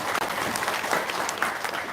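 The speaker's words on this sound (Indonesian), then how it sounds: "tepuk tangan dulu dong" Audience clapping fills a seminar room in steady, dense applause for about two seconds, with no voices standing out above it.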